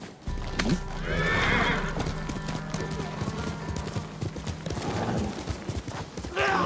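A horse in the video game Ghost of Tsushima whinnies loudly while its hooves clip-clop in a busy rhythm, with game ambience and faint talk around it.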